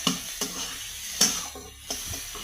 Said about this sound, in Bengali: এখানে ফোড়ন দিলাম, 5 ফোড়ন দিলাম, দুটো শুকনো লঙ্কা দিলাম আর তেজপাতা দিলাম